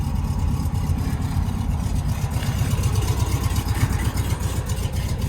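A 1953 Volkswagen Beetle Ragtop 11G Deluxe with sunroof idles steadily while warming up, its air-cooled engine giving a loud, close, even low chugging rumble with no speech over it.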